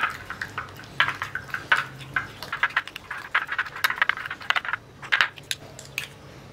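Wet paste of raw milk and honey stirred in a bowl for a face pack, giving a steady run of small clicking, scraping taps of the spoon against the bowl, close and fairly quiet, with no talk.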